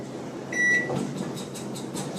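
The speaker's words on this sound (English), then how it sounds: "Now we're going to set the microwave on maximum, and we're going to set it to half an hour." A microwave oven being set to maximum power for half an hour: a few short electronic keypad beeps, then a steady, low running hum close by, with no voices.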